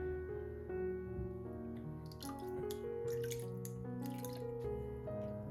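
Water drips and trickles as a small idol is soaked in a water bath, a steady patter of drops with brief splashy bursts, fairly quiet and close, with no talking.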